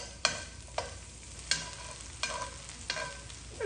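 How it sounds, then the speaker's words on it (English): Onions with a pinch of salt sizzle softly in a pan while a utensil stirs them, sharp scraping clicks landing every half second or so over a quiet, constant frying hiss. "I'll throw in my onions with a pinch of salt. Let's just stir those around."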